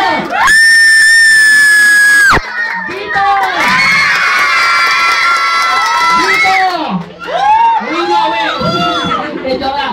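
Children at a birthday party shout and cheer loudly together during a contest, a sustained excited crowd roar rising and falling over ten seconds, with a shrill whistle-like tone early on and many overlapping young voices.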